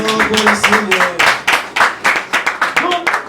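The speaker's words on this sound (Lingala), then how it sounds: "Acclamons plus fort pour la parole." A church congregation claps in rhythm, a brisk run of loud, close, evenly spaced claps, with singing or voices mixed in underneath.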